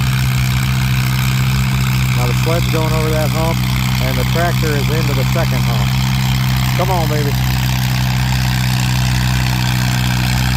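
Antique tractor engine labouring loud and steady through a tractor pull, dragging a sled over humps, with a constant heavy low drone throughout while a voice talks briefly over it.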